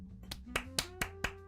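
Hand clapping: about six crisp, evenly spaced claps in a quick, steady rhythm over a quiet, sustained tonal background.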